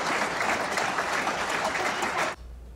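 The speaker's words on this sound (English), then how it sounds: "He left the courtroom to a round of applause" Courtroom applause as a man leaves after a not-guilty verdict: dense, even clapping from a crowd that runs on, then cuts off abruptly into quiet room tone.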